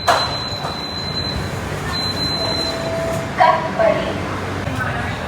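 A train pulls into a station with a steady rumble and a thin, high metallic squeal, followed by a couple of clunks.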